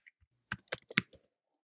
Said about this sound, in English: So simply type in the text that you want.